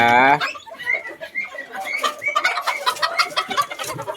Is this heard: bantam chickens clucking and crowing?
yes